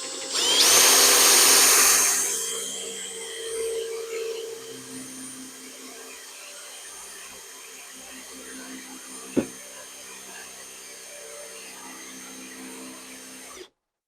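A power drill drilling into a lock cylinder whines loudly for about two seconds, then a lower mechanical hum continues with a sharp click midway before it cuts off.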